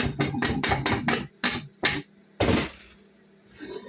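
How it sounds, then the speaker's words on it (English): Parboiled potatoes are shaken hard in a lidded pot, giving a rapid run of loud, close thumps and rattles. Two or three separate heavy knocks follow, then a quiet stretch. "What you do, you put the lid on, get a towel, and vigorously shake."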